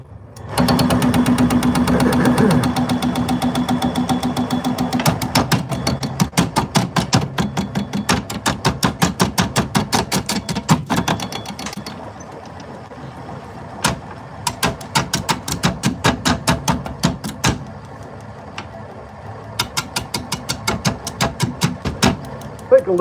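A wood lathe that is not bolted down spins a lidded hollow form, giving off loud, rapid rhythmic knocking and rattling that runs steadily at first and then comes in choppier bursts.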